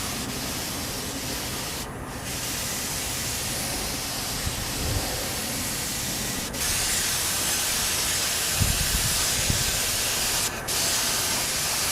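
Spray gun laying light coats of paint onto Ninja motorcycle fairings, a steady close hissing spray running throughout with brief pauses and a shift in tone as the passes change, faint handling knocks underneath.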